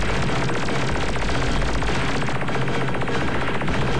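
Rapid, sustained automatic gunfire from Ultimate Crab Battle fills the whole stretch, loud and unbroken, layered over a low rumbling game soundtrack with no one talking.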